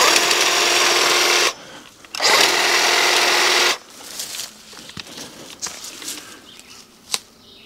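Stihl HSA 56 cordless hedge trimmer cutting bushes outdoors, two loud sustained buzzing runs of the blades, then quieter rustling and snapping of branches with a sharp click near the end.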